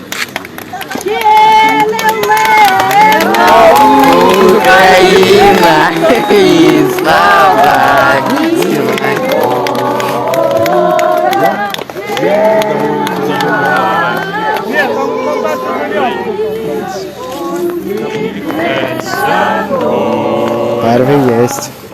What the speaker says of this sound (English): that's them cheering the soldier, putting up the Ukrainian flag and singing the Ukrainian anthem